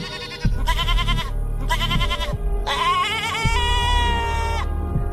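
A goat bleats loudly in several long, wavering calls one after another, close and clear, with no talk.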